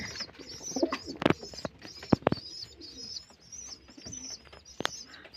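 Kalanka pigeons coo softly in a loft, low murmuring calls with occasional sharp wing flaps and clicks, close by and intermittent over faint background noise.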